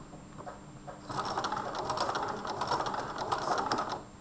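Sewing machine stitching a jeans zipper: a quiet pause, then rapid, even mechanical stitching that chatters on close-up for about three seconds.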